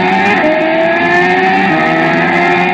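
Car engine revving from a car racing video game, a steady, loud synthetic motor drone with rising pitch shifts, continuous for the whole stretch with no voices.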